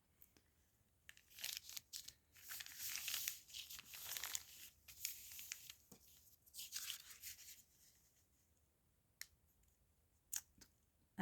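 A tall, skinny paper bag being folded for a handmade spring journal: close, soft crinkling and rustling paper in several bursts, then a few isolated small taps as it settles, quiet throughout.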